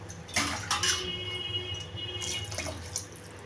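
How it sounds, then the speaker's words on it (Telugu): Water pours and splashes into a metal pot of sliced bottle gourd and drumstick for tamarind stew, with a few clinks of cookware, close by and fairly quiet. "రెండు గ్లాసులు వాటర్ కూడా పోసేసుకోండి"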